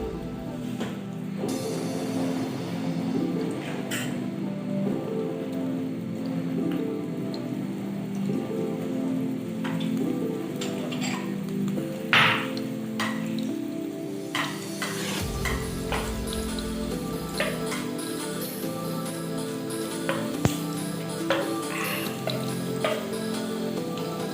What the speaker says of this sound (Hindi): मैंने अपने पैन में 2 टेबल स्पून ऑयल डाला है और इसमें मैं 1 टेबल स्पून गार्लिक डाला है